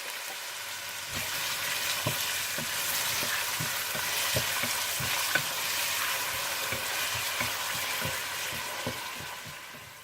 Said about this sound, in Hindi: और इसमें प्याज डालकर हल्के गोल्डन ब्राउन कर लीजिए।